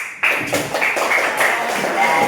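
In a classroom, a group claps in a rhythmic counting game, producing quick clustered bursts of hand claps, close and fairly loud, with some voices mixed in.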